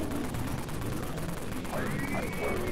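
Gunfire in the video game Dead Frontier 3D, a dense rattle of shots over a noisy, busy background, with a ringing tone sweeping in near the end.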